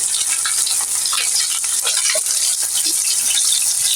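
Hilsa fish frying in hot oil gives off a loud, continuous sizzle that stays dense and steady throughout, with no one talking.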